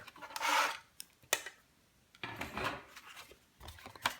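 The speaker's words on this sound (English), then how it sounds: "I'm going to score it at 3 inches, and that gives me 1/2 inch flap." Cardstock for a flip album is scored with a scoring tool, giving close scraping strokes and light taps in uneven bursts, with a few sharp knocks between them and no talking.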